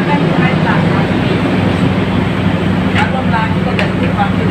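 Steady rumble and clatter inside a moving KAI Kertajaya passenger train travelling from Jakarta toward Surabaya, a continuous loud low drone with faint voices beneath.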